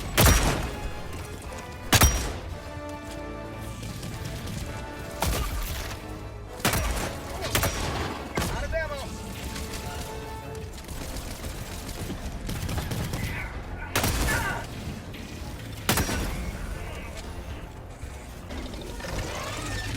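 Double Freedom shotgun blasting at bugs in Helldivers 2, heavy close-range shots landing every second or two amid a dense, continuous mix of game combat noise.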